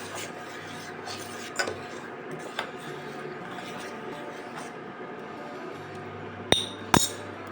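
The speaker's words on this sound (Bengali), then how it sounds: "ঘি দিলে কিন্তু পায়েসের স্বাদ আরও বাড়ে তাই আমি ঘিটা দিলাম ভালো করে নাড়িয়ে দেবো" A spoon stirs rice kheer made with jaggery in a pot after ghee goes in, soft scraping over a low background hum with occasional metallic clinks and two sharp knocks near the end, close and fairly quiet.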